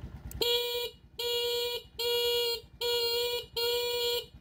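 A car horn sounds in five steady blasts of about half a second each, separated by short gaps, loud and close over a low engine idle, during a wiring check on a stock regulator.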